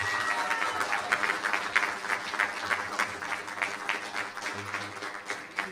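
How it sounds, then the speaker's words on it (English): Applause from the audience at a school district board meeting honoring an elementary school PTA executive board, moderately loud scattered clapping that rises and falls in uneven bursts throughout. "Please join me with a round of applause recognizing the dedication and hard work of the Bonsall Elementary"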